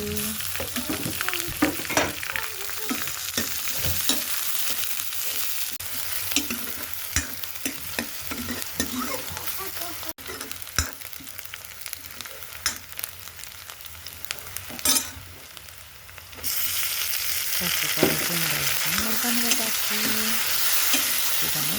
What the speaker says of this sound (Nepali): लसुन फुराएपछि मैले प्याज मसला राखेपछि सँगै फुराउँछु